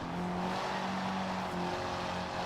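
A video game race car roars past another racer, a loud sustained engine drone with steady tonal whine and a slight pitch shift midway, close and continuous.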